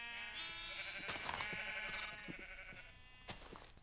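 Minecraft sheep on a sheep farm bleat repeatedly, several overlapping calls in a steady chorus at moderate loudness with no voices.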